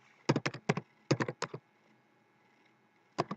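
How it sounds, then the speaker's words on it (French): Keys tapped on a computer keyboard to type a folder name, quick bursts of crisp clicks in short clusters separated by pauses, close and clear, with no talking. "Je vais taper le nom directement au clavier"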